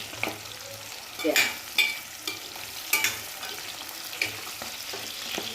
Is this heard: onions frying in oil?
yes